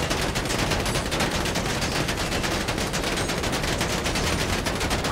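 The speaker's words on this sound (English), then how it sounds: "super excessive shooting at the fender over here" Relentless, dense gunfire in a bank robbery game, with many weapons shooting continuously at a car fender, loud and unbroken throughout.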